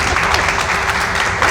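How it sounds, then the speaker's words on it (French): Applause added as a sound effect rolls on as a continuous crowd patter, loud and even throughout, with no clear talk. "Tu mettras Des applaudissements. comme ça là, comme dans les films Disney"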